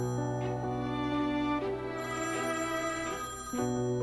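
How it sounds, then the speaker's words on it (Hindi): A mobile phone rings indoors with a steady electronic ringtone of repeated melodic tones, loud and continuous, with no voices over it. "मेरा फोन बज रहा है।"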